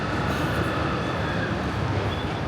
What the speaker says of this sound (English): train's coming around.